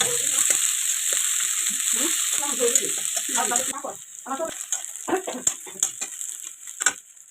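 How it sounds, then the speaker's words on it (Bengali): Chopped onion frying in hot oil with cumin and green chillies, a steady dense sizzle for the first half, then thinning into irregular crackles and pops. "পেঁয়াজটি আমি একটু লাল লাল করে ভেজে নেব।"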